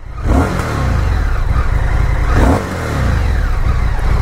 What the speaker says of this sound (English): You think about revving that throttle.